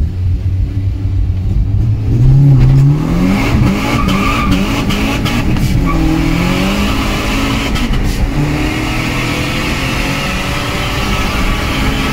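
Fiat Uno Turbo ie launching from a standstill, its engine revving loud and close, rising in pitch through the gears with a brief tire squeal at the start, alone without talk.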